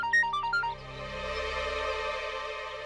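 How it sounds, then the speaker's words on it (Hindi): A short electronic ringtone melody chimes a few quick notes, then fades into a sustained tonal hum over background music. "अशोक का फोन।"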